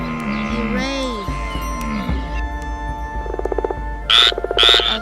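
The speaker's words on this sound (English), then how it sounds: "A frog." Frog croaking: a loud run of rapid pulsed croaks that builds in the second half, ending in two sharp bursts, with speech-like sounds early on.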